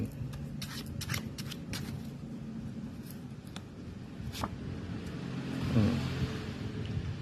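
Tarot cards are riffled and handled at close range during a reading, with a run of crisp shuffling flicks early and a few single card snaps later, all over a steady low background hum.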